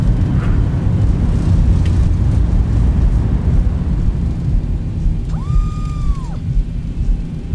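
Thrust reversers roar on a Zibo 737-800 landing in X-Plane 11, a steady loud low rumble of engine and wheel noise throughout, with a brief synthetic tone sounding near the end.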